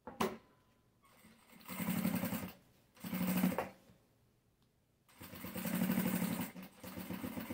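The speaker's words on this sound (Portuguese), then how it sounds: "tô costurando o meu papelão" Sewing machine stitching through cardboard to make a raised-base pencil case, running in three close bursts of buzzing motor noise separated by short pauses.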